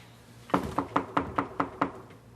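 Seven evenly spaced knocks on a door, sharp and fairly close, sounding in a steady rhythm with quiet between them in a dramatic interior scene.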